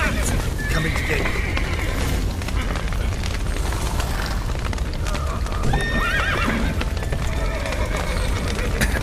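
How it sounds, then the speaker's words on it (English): Horses gallop with rapid hoofbeats and neigh repeatedly in the video game The Witcher 3: Wild Hunt, loud and continuous, layered with shouting voices and chaotic background noise. "The horses!"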